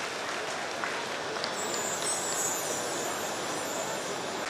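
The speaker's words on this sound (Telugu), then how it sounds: "ఇప్పటిదాకా మిమ్మల్ని ఆహ్లాదపరిచిన వారందరికీ ఒకసారి గట్టిగా చప్పట్లతో ధన్యవాదాలు తెలియజేస్తూ" Audience applause fills a large auditorium at a government housing-title distribution event, a dense, continuous wash of clapping that holds steady at moderate loudness throughout, with no speech on top.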